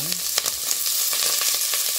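Onion sautéing in rendered chicken oil for tinola, a steady bright sizzle with soft stirring clinks, close and moderately loud throughout.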